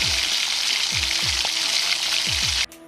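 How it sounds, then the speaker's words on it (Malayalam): Curry leaves frying in hot oil give a steady bright sizzle, with a low rhythmic thump repeating about twice a second, cutting off abruptly near the end. "കുറച്ച് കറിവേപ്പില നമുക്ക് എണ്ണയിൽ വറുത്തെടുക്കാം."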